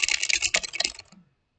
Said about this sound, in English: So this is how it sounds like when I'm typing.